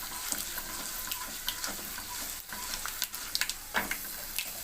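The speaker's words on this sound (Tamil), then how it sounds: "நல்லா பொன்னிறமாக வறுத்துக்கோங்க." Cumin seeds and chana dal fry in a pan, giving a steady, close hiss of sizzling oil broken by light scraping and stirring, with no one talking.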